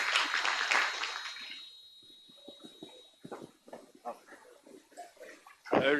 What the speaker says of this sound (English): Let's have applause to welcome Dr.